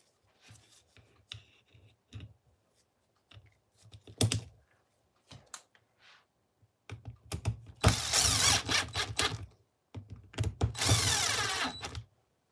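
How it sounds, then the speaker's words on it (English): A power drill drives two screws while a Corally Kronos XTR RC car is being put back together. Sparse close clicks and handling noises come first, then two loud, sustained bursts of drill whirring, one after the other. "Let's get these two screws in there just to hold it."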